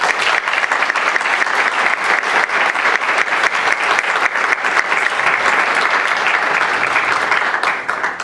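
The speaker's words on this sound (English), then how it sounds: "I just want to give you a round of applause" An audience at a university Hijab Day event applauds, a dense, steady round of clapping from many hands, loud and sustained throughout.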